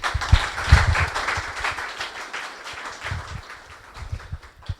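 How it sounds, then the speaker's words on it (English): A lecture audience at an application security talk claps for the speaker in a moderate, fairly steady spell of applause, with some dull low thumps nearby and the clapping thinning toward the end. "let's give him applause and thank you"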